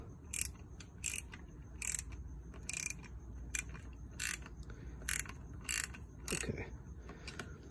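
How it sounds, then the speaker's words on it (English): Wrench work loosening a stubborn bolt on a Sur Ron electric dirt bike's horn mount, a series of about ten sharp, regular ratcheting clicks over a low background hum, with a brief spoken word. "I'm actually gonna loosen the horn slightly by loosening this bolt up here, which is being stubborn."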